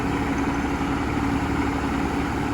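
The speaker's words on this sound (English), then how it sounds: "Machine here, old John Deere 7410." An old John Deere 7410 tractor engine runs steadily at close range, a loud continuous low idle-like drone with a constant hum and no breaks, out in the field during bushhogging work.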